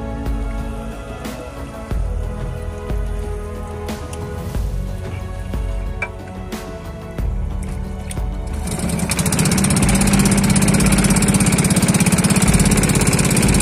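A small outboard-style drum engine on a traditional handline fishing boat off the beach drones steadily, then swells louder and rougher about two-thirds through as it picks up, with no voices.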